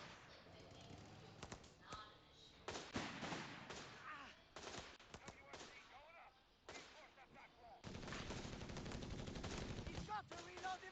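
Machine gun fire rattles in a World War II-style strategy video game, rapid bursts of shots over battle sounds and distant explosions, fairly faint, with intermittent game noise and no clear talk.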